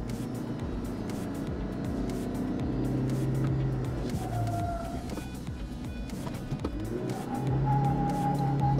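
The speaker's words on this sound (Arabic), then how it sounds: "قاعد تسمعون الكفرات تشاحب علشان يوصل لفوق" Off-road vehicle straining up a steep slope on a trip through Al Baha, Saudi Arabia, its engine droning under load while the tires scrabble and squeal intermittently, moderately close and continuous.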